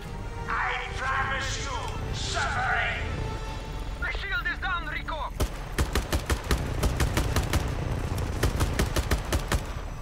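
Gunfire in the video game Just Cause: rapid, sharp bursts of shots rattle in a dense fusillade, preceded by brief chirping game sounds, with a voice talking over the action.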